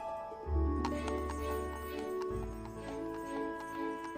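A horse-drawn carriage moves along with faint hoof clip-clops over a low rumble and sustained background music.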